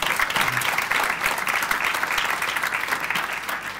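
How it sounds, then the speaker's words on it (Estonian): Conference audience applauding at a closing session, a dense steady wash of many hands clapping throughout at even loudness, close and full. "teeme ka nendele ühe aplausi"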